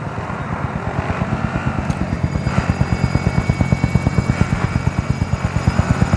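A descending helicopter in Call of Duty: Modern Warfare, its rotor beating in a steady, fast, loud chop that holds throughout with a constant engine whine beneath and no voices.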